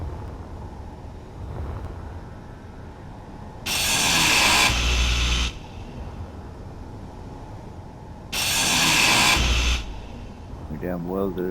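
A welding tool in the Space Engineers video game switches on twice, each time a loud, dense roaring hiss lasting roughly one to two seconds, with a quieter low hum in between.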